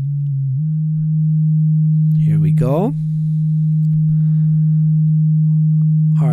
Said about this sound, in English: Get our sine wave going again.